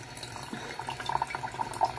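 Tap water runs steadily into a sink for washing, a soft continuous splashing with small irregular drips and gurgles near the microphone.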